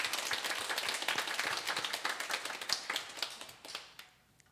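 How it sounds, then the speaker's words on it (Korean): A congregation claps during a Sunday worship service, a moderate ripple of hands that holds for a few seconds before quickly dying away into quiet. "우리 박수로 다시 한번 격려하겠습니다"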